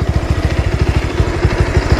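A motorbike engine on a mountain road runs with a fast, even low thudding pulse, close and loud, with no voices over it.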